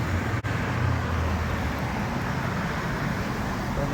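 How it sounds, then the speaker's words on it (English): Road traffic rolls past a historic strip mall in Hollywood as a steady, moderately loud wash of cars with a low engine rumble and no clear talk. "as the traffic flows past"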